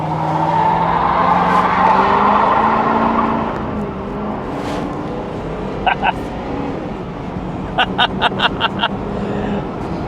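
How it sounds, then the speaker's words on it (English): Rear tires of a flooded police car spin in a burnout, a loud sustained engine roar with tire noise in the first half, easing off, then short chirping squeals near the end. "Maybe we can do a little burnout."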